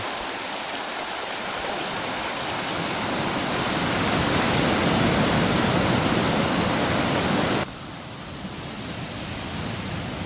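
Steady rushing water of the Rivière des Galets on Réunion, loud and continuous, with a slight drop in intensity near the end.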